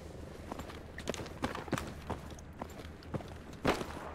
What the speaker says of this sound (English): I'm hearing a lot of enemy footsteps north, northwest